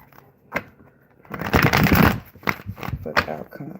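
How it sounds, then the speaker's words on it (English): Tarot cards are shuffled briskly in the hand, bursts of riffling and flicking at close range with a short tap before them. "Now, let me do a good shuffle here"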